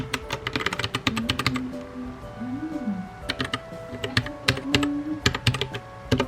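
Rapid clicking keystrokes on a new keyboard, typed in uneven bursts at close range with a faint low hum underneath.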